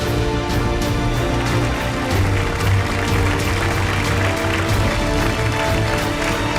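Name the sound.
audience applause for a magician's trick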